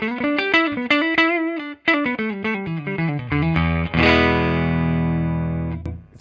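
A 1987 Fender Stratocaster on its neck pickup plays a run of clean, rounded single notes, some descending, through an amplifier, ending in a sustained strummed chord that rings out and decays.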